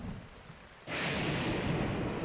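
Rain patters faintly in Breath of the Wild's Gerudo Desert until a lightning strike lands nearby, its thunder breaking in as a sudden loud crack that swells into a sustained roar over the rain.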